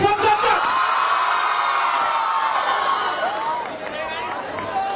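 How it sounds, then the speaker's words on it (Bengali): A university crowd of young women screams and cheers at a film promotion event, with high-pitched whoops and yells rising over a dense roar of voices, close and loud. "মেয়েদের চিৎকার শুনতে চাই।"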